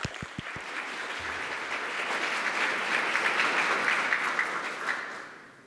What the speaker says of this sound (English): Please make him feel very welcome by a large round of applause.